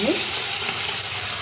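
Panch phoron spices sizzle in hot ghee, a dense steady crackling hiss that fills the short moment at an even level, with no voices over it.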